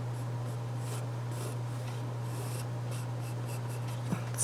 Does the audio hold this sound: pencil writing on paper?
yes